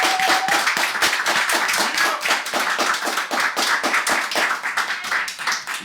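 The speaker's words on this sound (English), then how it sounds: "please give yourself a round of applause" An audience at an evening storytelling event claps in distinct, fairly sparse hand claps rather than a dense roar, close and lively, with no talk over it.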